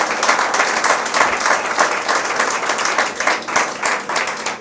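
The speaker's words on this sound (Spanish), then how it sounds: "un aplauso al Señor" A church congregation applauds during a sermon by a pastor, with loud, dense clapping from many people sustained evenly across the whole stretch.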